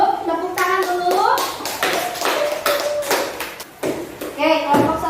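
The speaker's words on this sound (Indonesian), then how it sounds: "Silakan duduk, tepuk tangan dulu." Students in a classroom clap together in bursts of applause for a group as it sits down, with a teacher's voice speaking over and between the claps.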